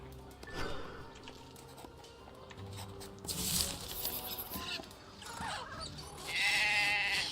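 A sheep in Drova: Forsaken Kin bleats amid a busy game soundscape of pattering steps and ambient layers, with the bleats rising briefly near the middle and end of the passage.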